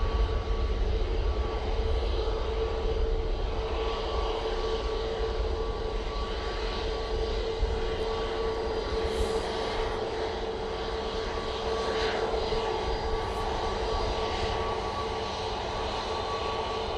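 A TUI Airbus A321neo drones steadily at Manchester Airport, a moderately loud, continuous engine roar with a faint steady hum that stays even for about seventeen seconds.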